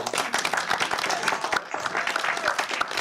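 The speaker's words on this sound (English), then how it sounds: "You can clap for him." An audience at a film-industry festival panel claps for the moderator, a fairly close, lively patter of individual hand claps from a modest crowd that continues throughout.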